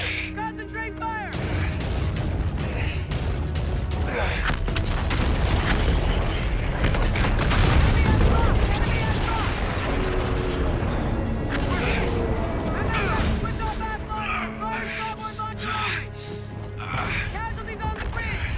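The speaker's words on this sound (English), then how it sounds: "Open fire! Open fire!" Dense gunfire and heavy booming explosions fill a Call of Duty: Infinite Warfare naval battle, with continuous rumbling blasts and clattering shots throughout and shouted voices mixed in.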